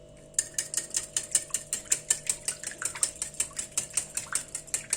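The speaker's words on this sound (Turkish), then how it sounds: "Şimdi bütün malzemeleri iyice çırpıyorum." Sauce ingredients with salt, chili flakes and thyme are whisked briskly in a bowl, giving a fast run of regular, crisp clicking strokes that sound close and alone.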